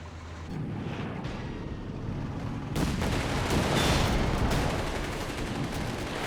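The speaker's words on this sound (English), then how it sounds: "Artillery incoming!" Artillery fire in Company of Heroes 3, dense rumbling blasts and crackling explosions that build to a heavy continuous barrage partway through.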